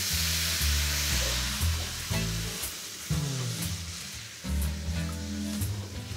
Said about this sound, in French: Là, je vais flamber au pommeau.